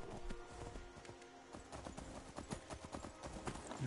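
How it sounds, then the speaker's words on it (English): Horse hooves clip-clop at a quick gallop in the Skyrim VR video game, a steady rhythmic patter of game audio, fairly faint and continuous. "My horse does fast travel with me."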